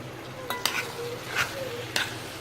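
A spoon stirs ackee and saltfish in a pan, giving a few distinct scrapes and clinks against a soft background sizzle, close and fairly quiet.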